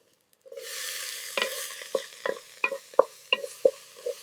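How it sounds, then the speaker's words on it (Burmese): Chicken stirred with a little shrimp paste in a hot pot, giving a soft steady sizzle broken by a series of sharp scraping strokes of a spoon against the pot, close and clear. "အဲ့ဒီနောက်ကြက်သားနဲ့ငပိ shrimp paste နည်းနည်းထည့်ပြီးအားလုံးသမအောင်မှွေပေးပါ။"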